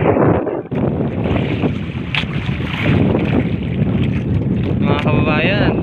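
A fishing boat out on big, rough sea waves, with loud, steady wind rushing across the microphone and constant water wash around the hull, continuous and close throughout.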